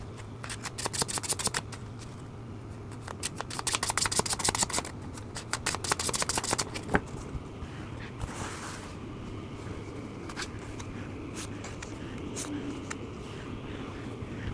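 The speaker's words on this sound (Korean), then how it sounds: "그럼 카드 셔플 후 원석과 번호 올려보도록" Tarot cards being shuffled by hand, a run of quick crisp riffling and slapping bursts in the first seven seconds, then softer rustling of the deck, close and clear with no talking.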